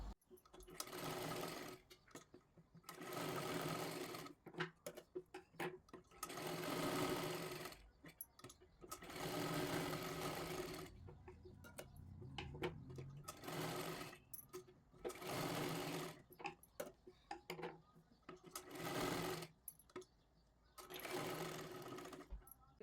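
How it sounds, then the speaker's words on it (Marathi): Sewing machine stitching a tuck on a blouse, running in repeated bursts of steady whirring separated by short pauses, close and clear, no speech. "त्याच्यावरती सर्वात आधी आपल्याला शिलाई करून घ्यायची आहे"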